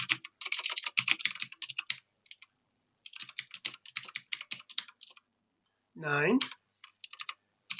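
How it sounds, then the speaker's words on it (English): Computer keyboard typing comes in quick bursts of crisp key clicks, separated by pauses, while a voice speaks briefly near the end. "So that's effectively me clicking in the boxes and typing."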